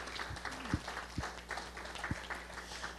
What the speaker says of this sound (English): Would you give him a hand clap of praise today?